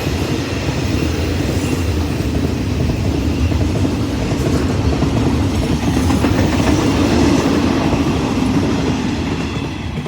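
Train number 555 rolls past on the railway, a loud, continuous rumble of wheels with a rhythmic clickety-clack of railcars passing close by, no voices.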